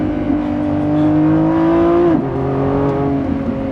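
A Lamborghini Revuelto V12 with its suspension in soft mode drones steadily along a bumpy road, a loud, close, even engine hum that dips in pitch once partway through before holding steady again.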